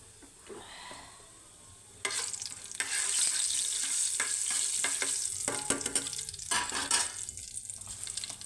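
Tempering spices, mustard seeds, cumin, chana dal and dried red chillies, frying in a little oil in a pan, starting quiet and then bursting into loud steady crackling sizzle with stirring clatter.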